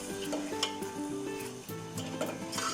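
Green chili and tomato paste stirred in a pan for aloo gosht, with a steady scraping and gentle sizzle running throughout beneath soft background music.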